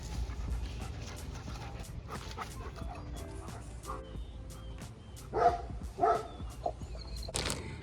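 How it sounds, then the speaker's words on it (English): Dogs yipping and barking in short bursts outdoors, with panting and whimpers between, moderately close, a few louder barks toward the end. "My dogs enjoy chasing bumblebees."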